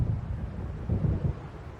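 Thunder from a storm in the video game Alan Wake Remastered, heard as a low, steady rumble with two swelling rolls over about two seconds, fairly loud and with no voices.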